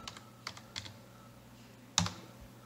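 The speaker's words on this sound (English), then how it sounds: "you type in the words localhost" Keys on a computer keyboard tapped in a few short, quiet bursts, with a sharper, louder keystroke near the end, heard close up in a quiet room.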